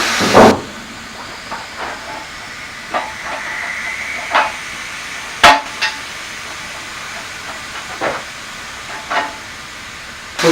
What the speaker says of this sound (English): So get yourself a little valve stem remover. It moves a little valve. So let's get the air out.